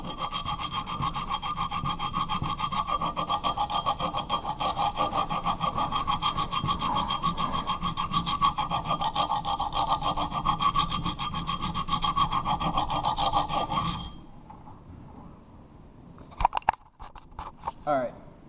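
A straight razor blade is rubbed back and forth on a 120 micron diamond sharpening plate, a steady close gritty scraping that runs evenly for about fourteen seconds, then stops and leaves a few scattered clicks and knocks.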